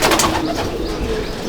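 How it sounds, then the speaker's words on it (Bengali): Pigeons in a loft coo close by, with a few soft throaty calls overlapping at the start before settling into a low murmur of birds. "দেখুন পায়রার কোয়ালিটি"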